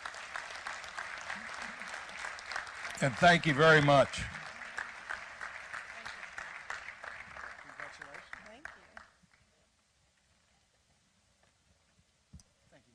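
Audience applause fills an annual Community Foundation meeting, a steady crowd clapping that swells briefly before someone speaks a few words of thanks over it, then stops abruptly into near silence.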